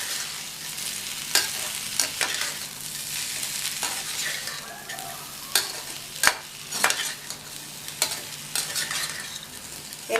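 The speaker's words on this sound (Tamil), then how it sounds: "சேர்த்துட்டு நல்லா மறுபடியும் மிக்ஸ் பண்ணி விட்டுறலாம்" A spoon stirs raw banana pepper fry in a hot pan, giving repeated scraping strokes and clinks over a steady low sizzle, close up, with no voices.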